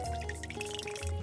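Water poured from a container into the removable water tank of a Decent DE1PRO espresso machine, a brief, close trickling splash.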